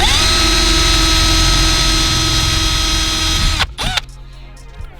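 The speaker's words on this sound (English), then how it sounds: "I'm going to go straight ahead and drill because I'm happy with it" A power drill whines steadily up close as it bores into a VW T3 camper door for a curtain rail fitting, then cuts out after about three and a half seconds, followed by a few clicks and handling sounds.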